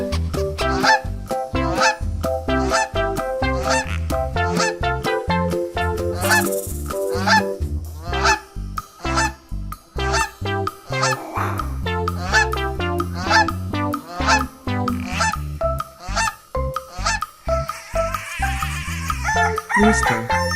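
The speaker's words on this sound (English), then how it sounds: "Goose." A goose honks over and over in quick, loud bursts, a rapid chain of nasal calls close to the microphone with brief gaps between them.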